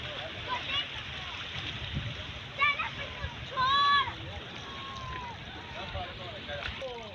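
Children bathe and splash in the sea at a fishing point near a port in Karachi, faint watery sloshing and splashes under distant voices and wind.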